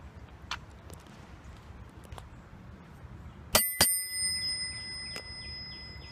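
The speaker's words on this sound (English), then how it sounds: "The other thing is I have a bell" Bicycle bell struck twice in quick succession, a bright close ring that decays slowly over a quiet outdoor background with faint rustling.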